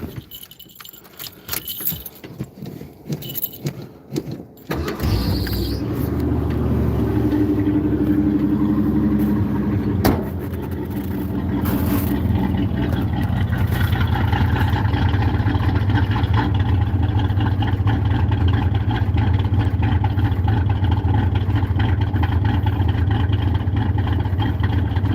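A car engine idles cold at around 2,000 RPM, a steady loud low drone that holds for most of the clip after some jangling at the start.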